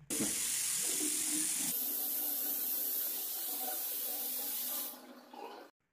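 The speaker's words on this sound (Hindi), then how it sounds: "अब मैं इसका थोड़ा पानी चालू करके दिखा देता हूँ" Water gushes from a bathroom basin faucet in a steady loud hiss, the flow changing pitch partway through before the tap is shut off.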